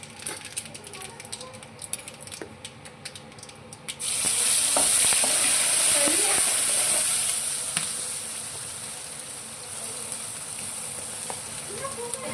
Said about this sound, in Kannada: ಗ್ಯಾಸ್ ಫ್ಲೇಮ್ ಆಫ್ ಮಾಡಿ ಗ್ರೈಂಡ್ ಮಾಡಿರೋ ಚಟ್ನಿನ ಇದಕ್ಕೆ ಆ್ಯಡ್ ಮಾಡ್ಕೊಳ್ಳೋಣ